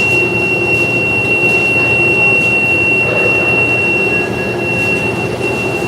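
A kitchen oven alarm beeps with a steady, piercing electronic tone that holds loud and constant over a busy background hum of kitchen noise during food prep.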